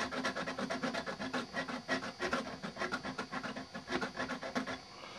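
Hand sawing on the chassis of a 1959 Chevy drag truck, a steady run of rasping back-and-forth strokes, close and fairly loud, with no talking.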